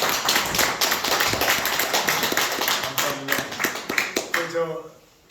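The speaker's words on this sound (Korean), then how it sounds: "최대한 크게 박수 쳐주세요." A congregation in a church applauds loudly with dense, sustained clapping that thins into scattered claps before fading out.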